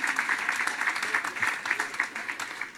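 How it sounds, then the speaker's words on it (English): Audience at a CalTrain electrification groundbreaking event applauding, a fairly soft, continuous round of clapping with a steady pulse, heard from some distance. "Let's give Jake Mackenzie another round of applause."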